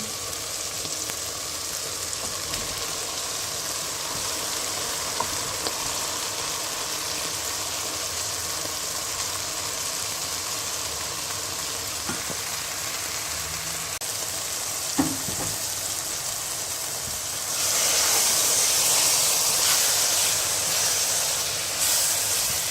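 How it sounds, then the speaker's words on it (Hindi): Steady sizzle and hiss of spinach frying in spice masala for saag, continuous and close, turning brighter and harsher in the last few seconds. "अब पालक को हमने इसमें अच्छी तरह से भून लेना है, जिस तरह आम पालक बनाते हैं।"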